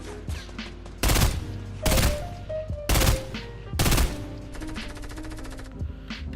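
Fortnite gunfire rings out in four loud bursts of rapid shots about a second apart, with a brief stretch of quieter game sounds and a final rattling volley between them.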